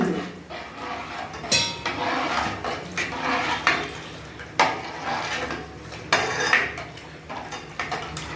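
A utensil scrapes and clinks against a metal pot of ragi porridge in repeated strokes, steady stirring with sharp knocks every second or so.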